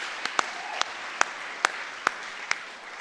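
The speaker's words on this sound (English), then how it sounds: "So I think we should give them a round of applause for that." Applause from a conference forum audience honoring a long-married couple, a steady wash of clapping with several sharper individual claps standing out near the front.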